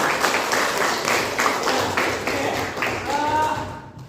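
A class claps together in a loose, pulsing rhythm of repeated bursts, close and full, before a voice briefly speaks as the clapping fades out.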